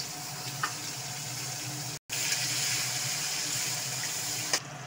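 Onions and tomato frying in a pan with whole cumin and five-spice seeds, a steady broadband sizzle running throughout, close and moderately loud, broken by a brief silent gap midway.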